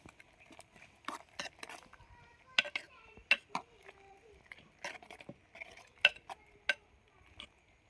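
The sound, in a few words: stirring vegetable pieces in a cooking pot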